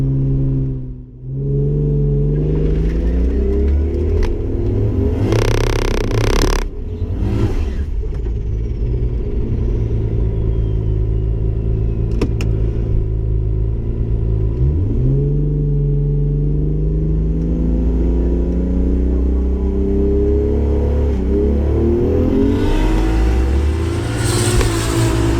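Drag car with a Powerglide transmission pulling hard on a run, its engine a loud, close, continuous roar that climbs steadily through rising revs for over twenty seconds, with brief wind buffeting.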